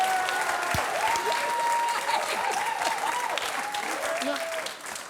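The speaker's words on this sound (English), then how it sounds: "Who's clapping?" Studio audience at a comedy news panel show breaks into sustained clapping and cheers, a dense steady wash that fades slightly at the end, with a voice speaking faintly over it.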